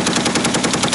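MG3 machine gun firing in a single sustained burst during Estonian army training, with rapid, evenly spaced shots, loud and close, filling the whole moment with no voices.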